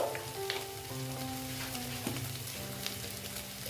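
Spices with coriander powder fry in oil for a katla fish kalia, a constant close crackling sizzle with a few sharp pops and faint stirring, with no talking over it.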